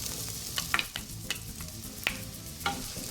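Onion frying in olive oil in a pan, with bacon fat, sizzles softly at low heat, with a steady crackle and several sharp spatters and stirring clicks, no voices.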